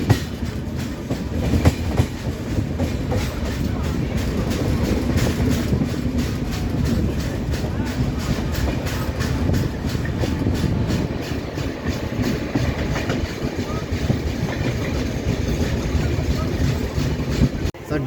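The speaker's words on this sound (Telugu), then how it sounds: "దడ్డ వస్తుందండి ఫ్లాట్ వీల్." The 12706 Intercity Express rolls along with a flat wheel, giving a steady loud rumble and rattle with regular thudding clicks from inside the carriage.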